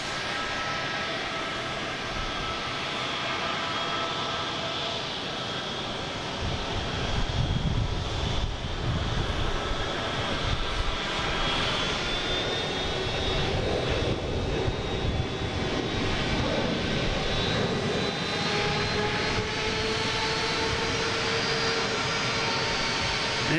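Jet airliner engines at Boston Logan International Airport, a steady broad roar with a whining tone, swelling louder midway, heard from the airport perimeter with some wind buffeting.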